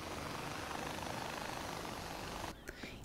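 Helicopter in the video game Far Cry 4 droning steadily, a broad continuous rotor and engine rumble at moderate level, broken near the end by a few sharp clattering game effects.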